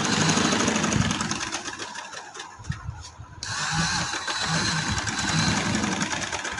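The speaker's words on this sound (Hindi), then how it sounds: "अब इसको ऐसे सिलाई लगाएंगे तो फिर हम दूसरी तरफ इसको लेके जाएंगे" A sewing machine stitches fabric in steady whirring bursts, close and fairly loud, pausing briefly in the middle before running on again.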